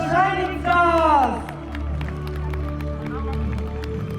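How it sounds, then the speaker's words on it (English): Crowd at a school's annual sports meet cheering and clapping for prize winners, brief scattered claps and whoops over a loud background hum, with speech heard at the start. "Give a big round of applause for our shining stars."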